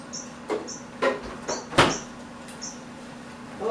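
A kitchen fridge door clicks and thumps open and shut several times in quick succession, each a short sharp knock at close range, with quiet room tone between and no talking.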